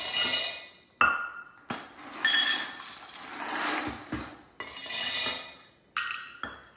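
Dry pasta shells are poured into a pantry jar in several separate bursts, each a loud close rattling clatter of hard pieces that builds and then cuts off, with short pauses between pours.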